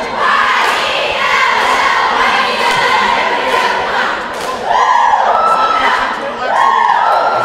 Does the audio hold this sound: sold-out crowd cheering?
yes